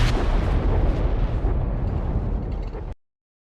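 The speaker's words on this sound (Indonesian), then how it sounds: "ia pun langsung meledakkan seluruh tempat itu" A building is blown up in a Star Trek film, a loud sustained explosion roaring and rumbling for about three seconds before cutting off abruptly.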